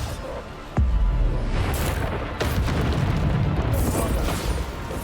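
Deep booming blasts from the Bombarda spell in Hogwarts Legacy, one sharp explosion followed by another a second and a half later, each leaving a rumbling roar.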